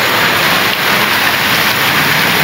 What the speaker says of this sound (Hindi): अभी बड़ी तेज़ बारिश हो रही है